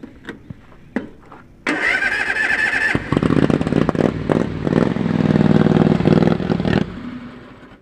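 A work vehicle engine running on a single carburetor cranks a few times, then catches and settles into a loud, rough, uneven idle nearby before cutting off.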